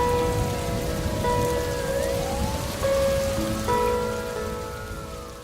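Steady rain pours down in a constant wash of patter, with sustained melodic tones layered over it, fading slightly toward the end.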